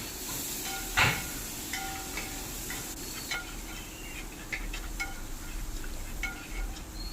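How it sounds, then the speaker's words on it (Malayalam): Chopped tomatoes sautéing in a pan for biryani, a steady close hiss with faint scattered crackles and one sharper clatter near the start, no talking. "ഒരു മൂന്ന് തക്കാളി ചെറുതാക്കി അരിഞ്ഞത് ആ തക്കാളിയും കൂട്ടിയിട്ട് വഴറ്റുന്നുണ്ട്"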